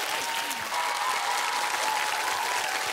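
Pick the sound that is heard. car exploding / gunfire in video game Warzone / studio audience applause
studio audience applause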